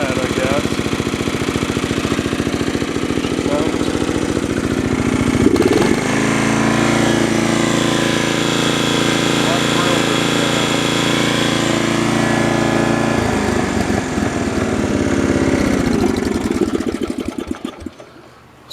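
A modified Snapper 2650 riding mower's small engine runs loud and close in a steady rapid chug, with a brief throttle change midway and a later shift in pitch before it cuts off and dies at the end.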